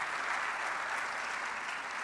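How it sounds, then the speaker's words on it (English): Forum audience applauding the panelists at a peace and sport event, a dense, even roar of clapping filling the room without a break. "Please, another round of applause for all the panelists from all the sessions that we've seen so far"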